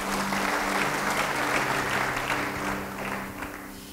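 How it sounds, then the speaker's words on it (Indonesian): A church congregation breaks into sustained applause during a sermon, a dense even wash of many hands clapping that fades slightly toward the end. "Beri tepuk tangan buat Tuhan."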